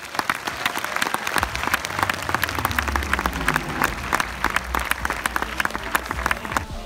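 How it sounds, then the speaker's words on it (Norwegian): Steady, dense applause from a crowd at a forum event, many hands clapping continuously at moderate volume with little talk. "Stor applaus!"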